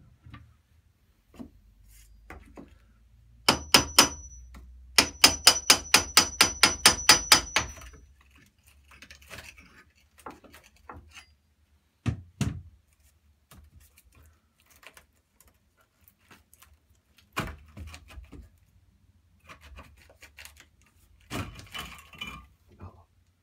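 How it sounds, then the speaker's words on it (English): Sharp metallic chipping as tiles are chopped off a toilet room wall, a fast run of rhythmic taps followed by scattered single knocks, clatters and scrapes. "I'm just going to start by chopping a few of these tiles off"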